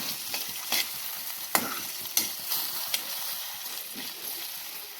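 Steady sizzling and crackling of peanuts dry-roasting in a hot pan, broken by sharp scraping clicks as they are stirred now and then.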